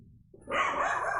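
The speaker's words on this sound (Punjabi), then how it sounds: "ਦੇਖੋ ਬਹੁਤ ਸਾਡਾ ਜੈਕ ਭੌਂਕਣ ਲੱਗ ਗਿਆ" A pet dog barks once nearby in a home, one sharp sustained yelp rising suddenly out of a quiet room.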